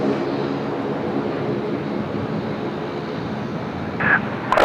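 A Rex airliner taxis out at Sydney Airport, its jet engines giving a steady, moderately distant roar that holds evenly, with a brief higher-pitched burst near the end.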